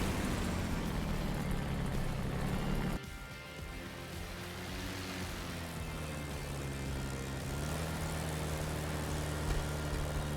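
A P-51 Mustang's piston engine runs on the ground in DCS World's Normandy 1944 setting, a loud, rough drone with a sudden drop in level partway through before it settles back to a steady rumble.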